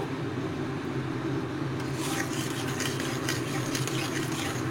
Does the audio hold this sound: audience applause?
no